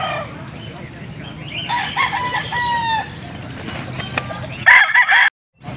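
A rooster crows loudly and close at a busy Pampanga market selling chickens, one drawn-out call followed by clucking over a steady crowd murmur, with people talking in the background.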